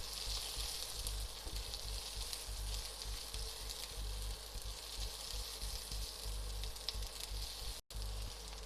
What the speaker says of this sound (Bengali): এবার আমি এর মধ্যে অ্যাড করে দিলাম রেড ক্যাপসিকাম, ইয়েলো ক্যাপসিকাম আর গ্রিন ক্যাপসিকাম। আর আমি হাই হিটে ফ্রাই করে নেব।